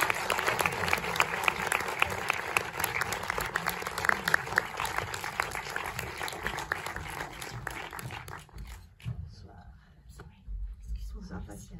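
Audience applause in a Montreuil cinema welcoming a film director on stage, a steady crowd of clapping hands that keeps going and then thins out toward the end.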